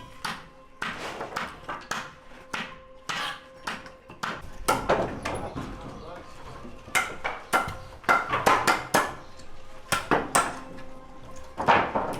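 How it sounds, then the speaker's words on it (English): Sharp metallic hammer blows on nails ring out in irregular bursts at a construction site in Bangladesh, some quick in succession, some spaced apart, close and fairly loud with a clanging ring. "starts hitting the nails one by one"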